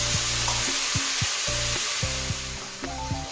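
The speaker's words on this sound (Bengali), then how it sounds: "আলুগুলো ভালো করে ভেজে নেব।" Potatoes fry in a pan with a steady, close hiss of hot oil, while a repeating tonal hum from a nearby appliance rises and falls over the sizzle.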